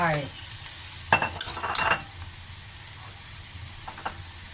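Rice stir-frying in a pan for tuna kimchi fried rice, a steady close sizzle with a few quick scraping, clattering stirs early on, then a softer continuous hiss with no talking.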